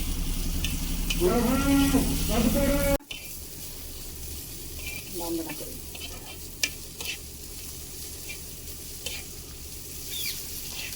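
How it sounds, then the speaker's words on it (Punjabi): Red chilli and garlic tempering in hot desi ghee for a chutney, a steady frying sizzle with light stirring throughout, a voice speaking briefly over it near the start. "ਇਹ ਦੇਸੀ ਘਿਓ ਦੇ ਵਿੱਚ ਹੀ ਤੜਕਾ ਲਾਉਣਾ"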